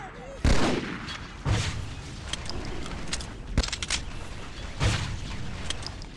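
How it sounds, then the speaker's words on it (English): A grenade launcher fires in the Halo CMT game, several heavy booming shots spaced a second or so apart, each with a sharp thump and reverberant tail over a continuous background din. "They've added a grenade launcher."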